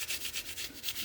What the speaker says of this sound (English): See the way the rust is over here, and I'll just hit it with the steel wool